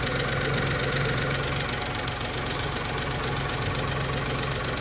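A Volkswagen Polo with a replaced engine runs close up, a loud, steady mechanical drone with a rough knocking texture that holds level throughout.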